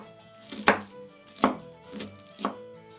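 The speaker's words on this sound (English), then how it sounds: "now we're just going to cut this cabbage in half and then chop it up nice and finely." A knife chops through cabbage in four distinct, evenly spaced cuts, each a crisp thud against a board, heard up close with no talking.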